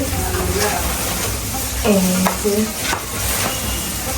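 Hilsa fish fries in a pan, a steady close sizzle with stirring scrapes while people talk over it.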